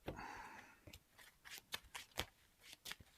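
Cards from the Marvel Champions card game are shuffled close by, a riffle and then a run of quick, crisp snaps and slaps at an uneven rhythm in a quiet room.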